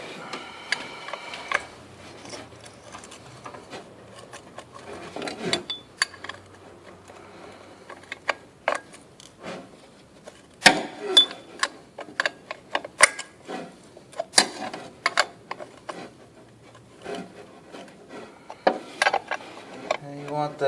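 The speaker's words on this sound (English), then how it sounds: "Then we will tighten the lock nut on the pulley." A wrench tightens the lock nut on the tension pulley of a 1998 Nissan Maxima during serpentine belt work. Scattered metallic clicks and ratchet-like ticks come in uneven bursts, close by, with faint talk in places.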